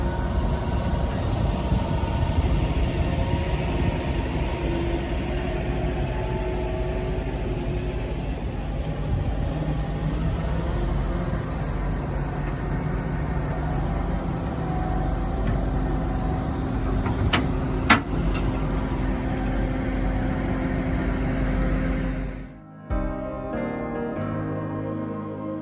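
A self-propelled potato harvester engine runs with a steady, heavy low rumble and hum for a long stretch, loud and continuous, then cuts away abruptly near the end.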